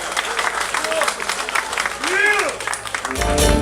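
An audience claps warmly, applause running under a loud lyrical voice with musical pitch, and the clapping swells toward the end.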